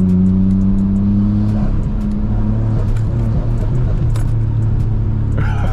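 A Nissan R32 GTR's engine drones loud and close while driving, its pitch holding steady, then dropping and climbing again through a shift.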